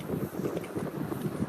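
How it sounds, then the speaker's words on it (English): Steady wind gusting outdoors around a weather station with a spinning propeller-style wind meter, a continuous low rushing buffet with fluttering microphone noise and no speech. "Here you can see that as the wind blows,"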